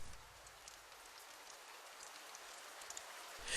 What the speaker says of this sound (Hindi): बारिश हल्की हल्की हो रही थी।